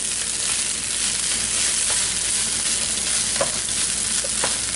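Chicken fried rice is stirred and tossed in a hot wok, a continuous sizzle with a few scraping spatula strokes near the end, and no talking.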